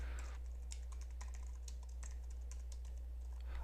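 Quick, light keystrokes on a computer keyboard as a user's details are typed in, a steady patter of clicks close up with no voices.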